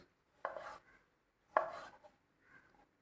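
A knife cuts through a washed, deseeded tomato lengthwise on a board, giving three soft, separate chopping thuds about a second apart, quiet and close, with no talking.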